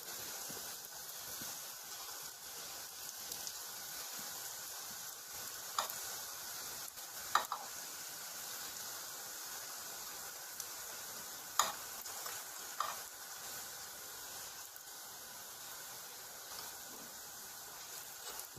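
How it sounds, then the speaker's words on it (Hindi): Bread slices for shahi tukda fry in hot fat with a soft, even sizzle, quiet and steady, dotted with a few faint ticks and light clicks, no voices. "अच्छी तरह से इसको मैं फ्राई करूँगा।"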